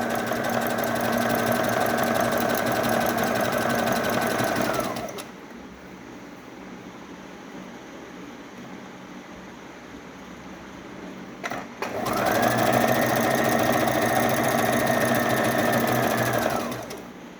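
Sewing machine stitching a zigzag seam on an umbrella-style gown, running in two steady bursts of rapid mechanical whirring separated by a quiet pause, close and fairly loud.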